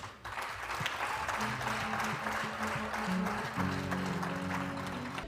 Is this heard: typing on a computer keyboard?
no